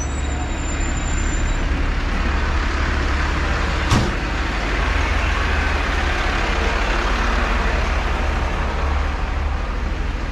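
Busy road traffic with buses and cars gives a steady, loud, continuous roar, with one sharp click partway through and no voices.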